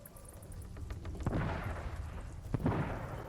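Explosions in the pirate video game Sea of Thieves, a couple of loud booming bursts about a second apart over a steady rumbling background.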